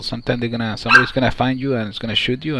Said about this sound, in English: that's my dog, so please don't freak out